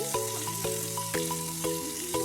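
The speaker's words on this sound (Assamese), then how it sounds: "তাৰপিছত মাছৰ পেটুখিনি দি ভালদৰে ভাজি ল'ম।" Fish belly frying in a pan with onions, ginger-garlic paste and turmeric, a steady close sizzle with a few soft stirring knocks and no voices.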